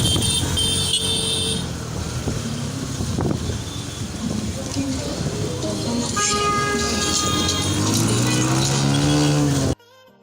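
A motorcycle taxi ride through busy Lagos traffic: a continuous engine drone and road rumble with passing vehicles and honking horns around, and a person talking over the noise.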